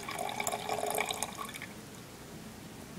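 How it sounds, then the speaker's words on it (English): Water is poured onto iron sulfate powder in a lab vessel, giving a brief splashing trickle for about a second and a half before fading into quiet room noise. "now we're just going to pour our water in on top of that and get it to dissolve"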